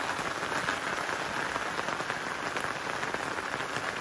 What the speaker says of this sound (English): You know, steady rain like this.